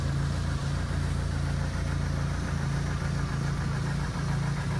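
A 2003 Ford Focus SVT idles steadily, a low, even engine hum with a faint rhythmic rumble, continuous and moderately close with no talking over it.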